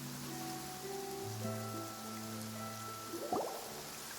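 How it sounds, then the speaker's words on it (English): Steady rain patters in the Genshin Impact video game during the Fontaine chapter, a soft continuous hiss with tonal game music layered over it and a brief louder splash near the end. "It's been raining non-stop for a few days now."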